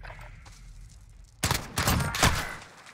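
A burst of rapid gunfire from the video game Modern Warfare erupts after a quiet stretch of low background noise, several loud, close shots in quick succession that fade out by the end.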